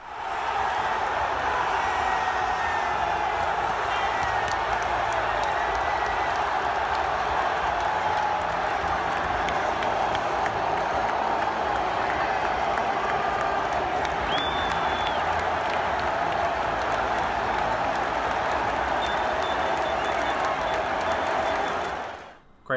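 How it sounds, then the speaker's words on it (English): A stadium crowd roars and cheers after Inter Milan's first goal, a dense, sustained wall of voices and clapping that stays loud and steady for over twenty seconds before cutting off. "when they finally scored their first goal, the crowd reaction was this"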